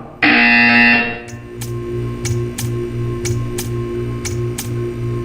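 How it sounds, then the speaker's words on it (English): A loud electronic buzzer in Portal 2 blares for about a second, followed by a run of regular sharp ticks over a low steady hum. "You will hear a buzzer."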